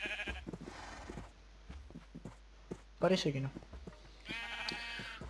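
Several sheep bleats from modded Minecraft gameplay, short nasal cries scattered at intervals with a louder one near the end, heard under someone talking in Spanish.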